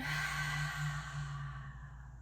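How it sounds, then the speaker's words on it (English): A single slow, deep breath drawn in and then released, heard close and alone in a quiet room, fading out toward the end. "Let's take a big breath in and then out."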